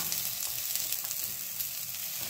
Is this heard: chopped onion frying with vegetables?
yes